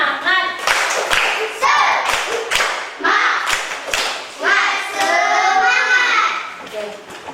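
Children in an Indonesian fourth-grade classroom do a rhythmic spirit clap, a patterned run of sharp, close hand claps mixed with young voices chanting along and a teacher speaking.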